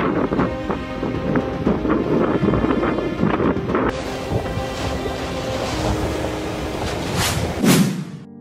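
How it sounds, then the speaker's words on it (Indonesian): Strong gusts from Cyclone Seroja roar and buffet close to the microphone in Australia, a loud, continuous rush of wind with heavy rumbling thuds and surges rising and falling throughout, and no voices. "badai siklon Seroja mendarat di dekat kota Calgary, Australia dengan hembusan angin 170 km per jam"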